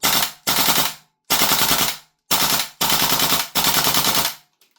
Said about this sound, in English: you can just rip these guns all down full auto and they will lap it up